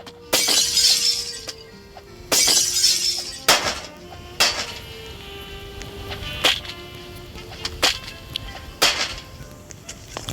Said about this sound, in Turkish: Hemen koltuk kırıyorum efendim.